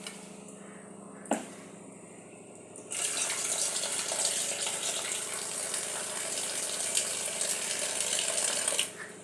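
Tap water runs in a kitchen during cooking, starting with a few clinks and a sharp knock, then a steady, close gush that continues for several seconds before cutting off.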